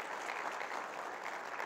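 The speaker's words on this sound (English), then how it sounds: "Round of applause for Disney, please." Audience applause at a Sony press event at NAB 2015, an even wash of clapping from a large crowd heard at some distance, steady for the whole short stretch.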